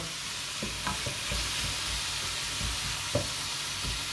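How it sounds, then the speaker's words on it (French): Endives cook in butter in a pan while a utensil stirs them, a steady hiss of sizzling under irregular soft scrapes and taps, close up with no talking. "Vous remuez de temps en temps pour pas que ça attache."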